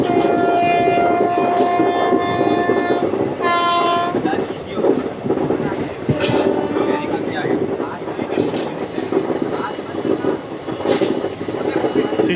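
An ICF 3-tier train coach runs toward Chittur station on the Hyderabad–Kollam special, with a loud continuous rumble of wheels, squealing on curves, rhythmic clatter and a horn, while voices can be heard faintly.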